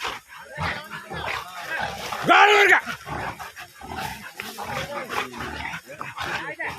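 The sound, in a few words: dog barking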